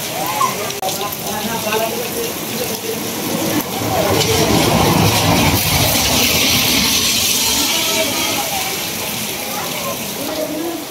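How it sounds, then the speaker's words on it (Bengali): Steady rain falling on a cloudy day, a loud, continuous hiss and wash that swells slightly midway, with faint voices beneath it. "বৃষ্টির মধ্যে এদিকে সবাই আটকে দিচ্ছে আর কি"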